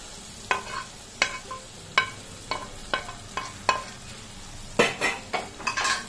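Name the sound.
mushrooms stirred in frying masala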